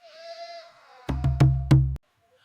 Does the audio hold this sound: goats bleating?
yes